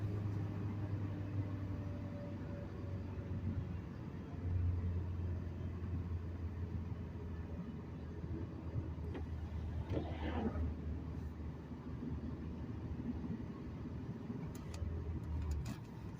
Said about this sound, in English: I'm doing 55 mile an hour and a downshift into fourth gear.